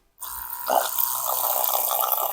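A small pump motor test-running submerged in a bucket of water kicks on abruptly, then holds a steady, close gushing and splashing of water for a couple of seconds.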